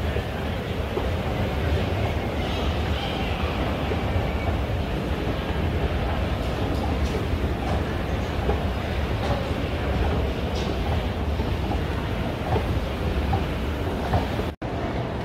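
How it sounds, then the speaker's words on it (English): A Kone down escalator running in Terminal 1 at San Francisco International Airport, giving a steady, even mechanical rumble and hum with terminal ambience that holds unbroken for about fifteen seconds. "This is the down escalator at the Terminal 1 of San Francisco, California."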